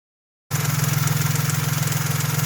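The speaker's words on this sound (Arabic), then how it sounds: "كيف ما كتشوفوا دابا الموتور تكالما بواحد الطريقه بزاف" A car engine with a hydraulic valve lifter idles steadily at close range after a brief silence, a low, even rumble with a smooth, regular pulsing and no other sounds.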